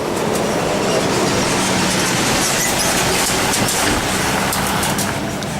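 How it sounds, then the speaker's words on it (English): A big truck rolls through temporary roadworks controlled by traffic lights in New Zealand, a loud close, steady roar of engine and tyres with rattling that holds throughout. "there's a big truck coming through."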